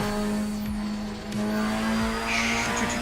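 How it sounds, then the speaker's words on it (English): Volvo 850 five-cylinder engine exhaust in a driving simulator game, a steady droning hum with a few throttle blips and faint tire squeal, running continuously for a few seconds without talk. "A 5-cylinder Volvo engine 850 exhaust is the best sound on any RPMs"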